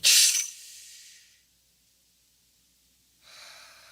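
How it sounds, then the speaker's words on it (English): A deep breath during a calm guided tapping session: a strong breathy inhale at the start fading into a softer exhale, a pause of silence, then another gentle breath, close and quiet with no talk. "take a nice deep breath"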